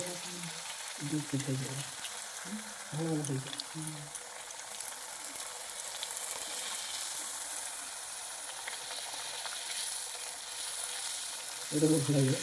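Puchka puris frying and puffing in hot oil, a constant bubbling sizzle throughout with bursts of low-pitched speech at the start and end, partly masking it.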